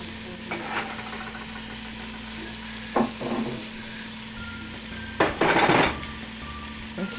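Onion sizzles in melted butter and bacon grease in a soup pot, a low steady crackle with a few clattering stirs and utensil knocks, one louder burst near the end.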